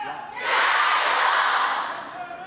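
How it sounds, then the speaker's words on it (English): An excited crowd at a table tennis mixed doubles final roars and cheers, swelling quickly to a loud, sustained wash of voices before easing slightly. "This crowd is hot right now, man. They are into this match."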